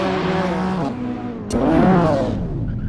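A Mercedes sports car drives close by, its engine note rising and falling through a couple of revving pulls on a cruise with a group of sports cars.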